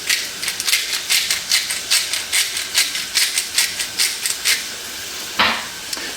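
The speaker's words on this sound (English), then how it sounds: "Stirring occasionally" Zucchini seasoned with salt and pepper being stirred as it fries in a pan, a steady run of rhythmic scraping strokes about every third of a second over a soft sizzle, ending with one sharper clank.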